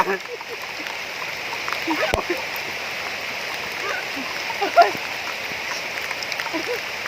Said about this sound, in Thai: ฝนตกเยอะมากเลยนะครับ